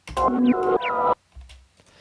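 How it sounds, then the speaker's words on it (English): A short backwards-sounding phrase: swelling tones that rise abruptly and cut off, two main bursts followed by a fainter tail, with an unnatural reversed attack. "take that recording, reverse it back, and we get this kind of like opening sound, like opening effect"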